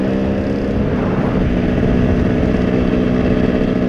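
A Kawasaki KLR motorcycle engine drones steadily while adventure riding, a loud, constant close-up hum with wind roar and no talking.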